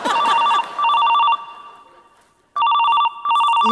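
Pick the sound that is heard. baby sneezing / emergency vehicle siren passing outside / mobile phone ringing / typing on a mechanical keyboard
mobile phone ringing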